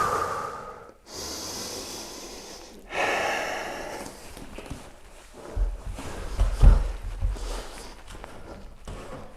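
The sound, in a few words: deep breathing during handstand wall drill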